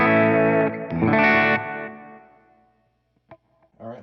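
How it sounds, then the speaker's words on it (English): Electric guitar on the bridge pickup played through reverb, delay, tape saturation and compression: sustained saturated chords ring out with a shimmering tail that decays into near silence, followed by a couple of brief plucked notes. "I'm gonna add in reverb, delay, tape saturation, and compression"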